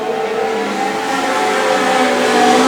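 Legend race cars circulate on an oval track in a steady, loud engine roar, the pitch holding fairly even and the noise swelling slightly toward the end, with no voices.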